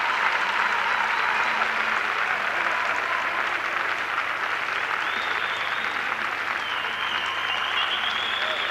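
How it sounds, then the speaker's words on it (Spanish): Sustained applause from the arena crowd for a gymnast after her vault at the 1998 European gymnastics championships vault final, a steady dense clapping that fills the whole stretch with commentary faintly mixed underneath. "Se está llevando la ovación."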